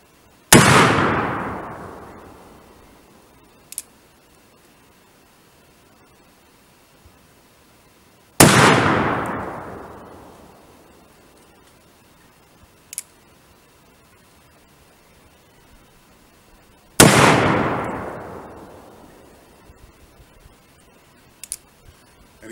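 Three loud, close gunshots from a Colt Peacemaker .45 black-powder revolver, spaced several seconds apart, each a sharp blast with a long echoing decay outdoors, followed by a faint click, with no talk.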